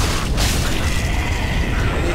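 Dragon fire breath in Dark Souls 3, a broad, steady roaring rush that fills the whole clip with a low rumble, loud and sustained, with no speech over it.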